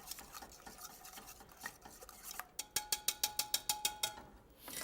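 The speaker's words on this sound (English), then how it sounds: "Stir that one more time." Spoon stirring a light macaroni and cheese sauce seasoned with white pepper in a metal pot, a steady run of clinks and scrapes ending in about ten sharp, evenly spaced taps against the rim, close and fairly quiet.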